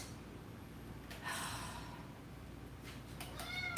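A cat meows a few times, drawn-out cries rising and falling at moderate volume against a faint background hiss.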